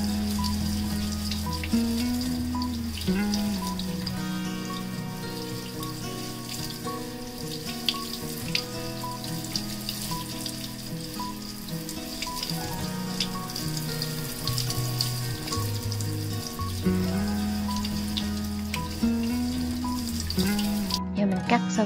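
Tap water running steadily while Dendrobium Nobile orchid roots are washed, a continuous close splashing stream with faint background tones and no break across the whole stretch.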